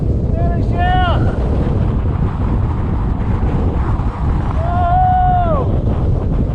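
Strong wind on an open hillside roars and buffets the microphone loudly and continuously, with a voice calling out briefly twice over the gusts.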